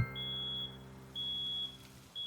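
Electronic alarm signal from the video game One Armed Cook beeps in long, high steady tones, three of them separated by short gaps, loud over a low sustained musical hum.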